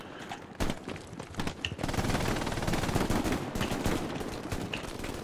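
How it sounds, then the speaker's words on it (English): Sustained machine gun fire in the Hell Let Loose war game, loud and close, opening with a few separate shots, then a dense continuous rattle of rapid bursts with no talking. "there's a machine gunner right on the road to your left"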